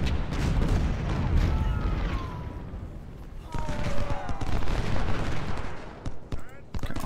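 Ten-pounder artillery pieces fire repeatedly in the Ultimate General: Civil War strategy game, a steady run of booming gunfire and overlapping shots with battlefield noise throughout, fairly loud and continuous.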